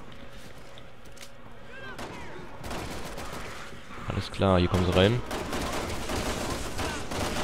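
Rapid bursts of gunfire in the video game Resident Evil 6 crackle throughout, with a brief louder stretch partway through, under someone talking in German.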